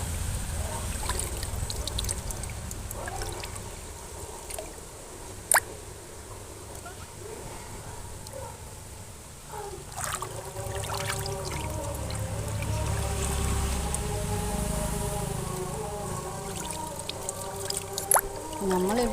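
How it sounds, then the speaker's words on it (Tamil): Garden watering with children playing in the water: steady trickling and splashing water throughout, with scattered clatters and splashes, under ongoing talk. "தோட்டத்துக்கு தண்ணி போட்டு விட்டாக்கா இந்த பிள்ளைங்க ஒரே தண்ணியில் விளையாட்டு ஆட்டம்"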